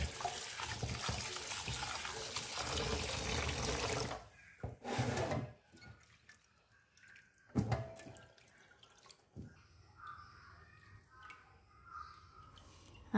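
Tap water pours and splashes while pickled vegetables are rinsed in a basin, a loud steady rush for several seconds, then intermittent bursts of splashing and dripping with handling noises in between.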